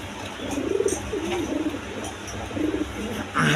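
Pigeons coo in soft, rolling bursts, close by, with a brief louder rustle near the end. A blackless female pigeon is among birds kept for sale.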